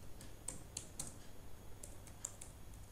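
Someone types on a laptop keyboard, entering a search, a quiet scatter of light key clicks in irregular bursts over low background hiss, with no voices.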